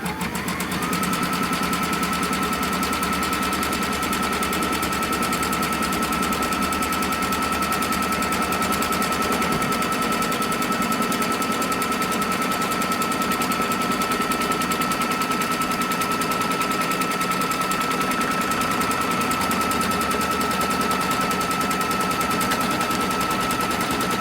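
Sewing machine stitching a placement line on fabric, a loud continuous rapid needle hammering at a steady pace with a faint high motor whine throughout.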